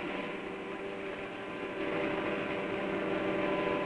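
A 1950s freight train rolls along the tracks in a steady, loud, continuous rumble that swells slightly louder partway through, with no voices.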